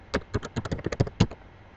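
A password is typed on a computer keyboard in a quick burst of about ten close, crisp key taps that stop abruptly.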